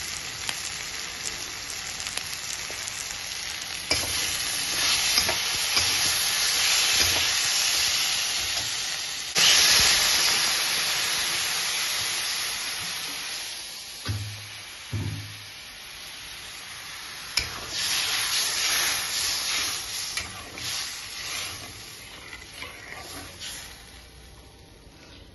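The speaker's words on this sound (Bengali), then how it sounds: "ঝোলটা ফুটে গেছে" Fish curry gravy with Kashmiri red chili powder and green chilies bubbling at a boil in a pan, a steady close sizzle and hiss throughout with a few soft knocks and clatters.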